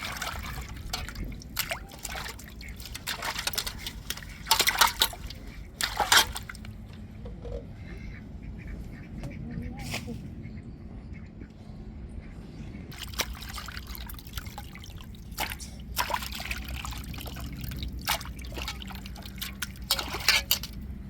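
Fish being rinsed and swished in water for a fish curry, a steady close trickle and slosh of liquid with occasional splashes and drips throughout, no talking.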